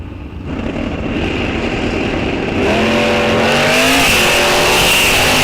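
At Rock Falls Raceway, a 1973 Camaro and a 1998 Camaro launch at a drag race. Their engines swell from a loud idle into a roaring, rising rev as they pull away, loud and close.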